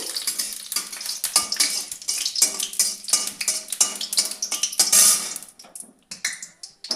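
Two dried red chillies fry in hot oil in a pan, giving a loud, close, crackling sizzle with stirring scrapes that fades into sparse pops near the end.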